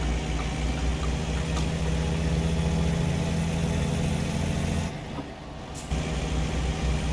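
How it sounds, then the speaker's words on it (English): A truck engine idles in American Truck Simulator with a steady low rumble and mid-range drone, briefly dropping quieter for about a second before resuming. "that new motor's loud"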